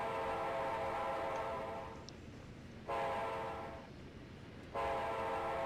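A short freight train rolls along in a train simulator game, its steady loud engine rumble and tonal horn-like drone sounding close and continuous, dipping briefly twice before resuming at full strength, with no talk.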